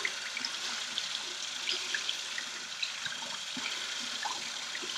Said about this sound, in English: get some hot water going in your sink